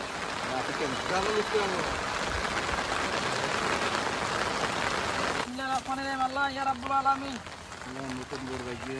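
Dense, steady rain hisses loudly for several seconds, then voices begin talking over the continuing downpour.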